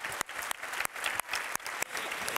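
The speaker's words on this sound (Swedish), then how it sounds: "En varm applåd också som gjorde ett fantastiskt jobb med det här samtalet." A conference audience at a keynote gives warm applause, a dense, steady roar of many hands clapping close by, broken by a few louder sharp claps.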